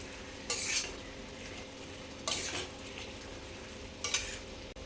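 Bottle gourd curry with green chili paste is stirred in a pan: three separate bursts of spatula scraping over a soft, constant low sizzle, close and fairly quiet, with nobody talking.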